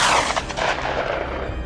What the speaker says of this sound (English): After a flurry of gunfire